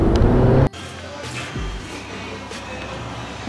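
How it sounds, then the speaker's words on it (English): Stock exhaust on an Audi A5 with heavy back box and centre resonator, giving a loud, steady low rumble with a strong airy rushing hiss; a louder burst cuts off sharply at the start, then a continuous idle-like drone. "So you hear a lot of that air rushing sound, which is not very good, not a very good tone for this car."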